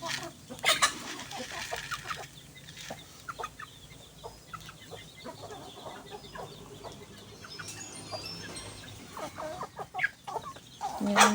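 Farm chickens on a rural homestead cluck in scattered, irregular bursts, moderately close, with occasional louder squawks and a faint voice under them.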